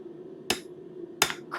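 Two sharp, ringing hammer blows on hot steel against an anvil while forging a J hook, spaced under a second apart over a faint steady hum.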